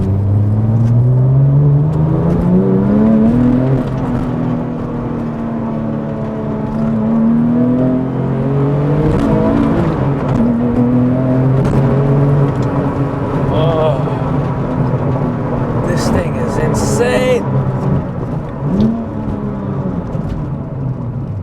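Porsche GT2 engine pulling hard while driving, pitch climbing and dropping through gear changes in a loud, continuous roar with a voice talking over it.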